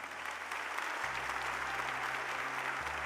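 Congregation applauding together at a Catholic worship service, a dense steady wash of clapping with a low hum running beneath it.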